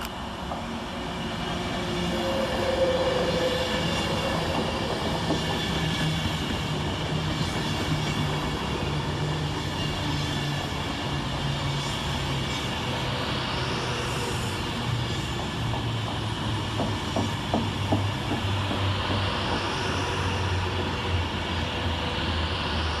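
Avanti West Coast train 39009 rolls into Motherwell station, a long steady rumble of wheels and engine with rhythmic clicking over rail joints and a rising squeal of brakes, heard close by throughout.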